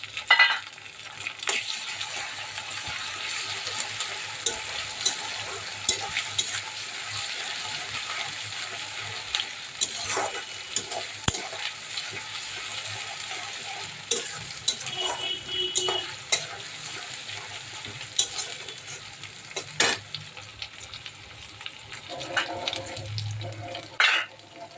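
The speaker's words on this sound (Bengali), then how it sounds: "আদা রসুনটাও দিয়ে একটু ভেজে নিচ্ছি" Ginger garlic paste frying and being stirred in a pan while cooking kochur loti, a steady low sizzle with scraping stir strokes and occasional clinks, faint tap water near the end, no talking.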